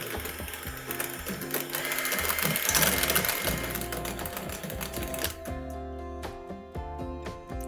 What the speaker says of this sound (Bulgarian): И така съм сигурна, че миксер е хванал абсолютно всички части на сметаната.